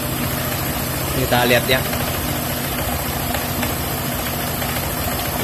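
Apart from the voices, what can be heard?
Honda PCX 150 scooter engine revving at top speed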